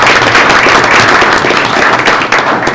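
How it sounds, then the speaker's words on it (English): Audience applause at a city Board of Mayor and Aldermen meeting in Springfield, Tennessee, a steady, loud wash of many hands clapping that continues for the whole stretch with little change. "I'm going to ask that everybody clap for you again."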